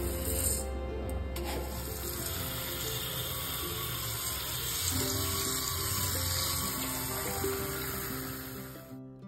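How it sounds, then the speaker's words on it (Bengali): A running tap at a kitchen sink while hands are washed and rice is soaked, a steady close rush of water with faint rubbing and splashing, no speech. "প্রথমেই গিয়ে আমি হাত ধুয়ে আগে চালটা ভিজিয়ে দিলাম"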